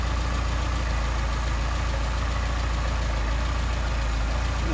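A Mercedes-Benz 190SL engine fitted with Solex carburetors idles steadily while the idle mixture screw is adjusted, a constant low rumble with a fast even pulse, close and loud with no break.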